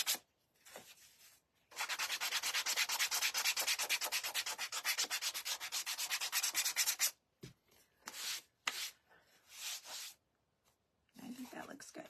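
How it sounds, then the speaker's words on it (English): Steady rhythmic scratching of sandpaper rubbing back and forth over a surface, close up, followed by several shorter bursts of sanding with pauses in between. "sanding."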